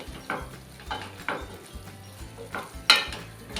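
A spoon stirs home-made spice masala into a vegetable in a pan, giving a few distinct scraping clinks at irregular intervals over a faint low sizzle, with one sharper knock near the end.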